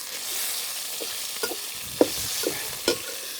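Pork belly stir-frying in a hot wok, with a steady soft sizzle running throughout and several brief scraping clacks of stirring spaced about half a second apart, fairly quiet and alone.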